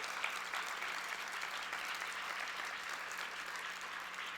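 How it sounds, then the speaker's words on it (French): Conference audience applauding a teacher, a sustained, even burst of clapping from a sizable crowd, with a faint steady hum beneath and no voices. "On l'applaudit encore une fois."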